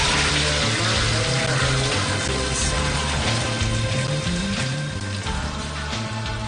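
Water pouring in a continuous, loud, close gush onto a twig outdoors, a steady splashing rush with no talking.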